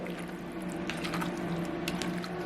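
Thawed coconut being stirred in a bowl, releasing its liquid, gives a soft, steady watery sloshing and trickling that runs close and continuous throughout, with no voices.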